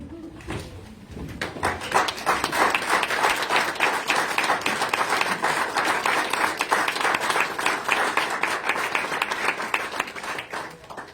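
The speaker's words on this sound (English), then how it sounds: "ask the room to stand in applause" A room full of people at a school board meeting stands and applauds, a dense, sustained wash of clapping that swells in after a quiet moment and continues steadily to the end.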